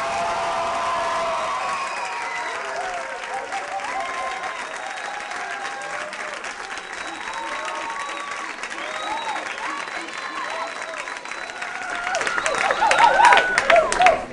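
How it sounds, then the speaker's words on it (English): A live audience applauds a performer, Caleb Fleming, for a sustained stretch of dense clapping with scattered cheers and calls, swelling louder near the end. "A round of applause for Caleb Fleming"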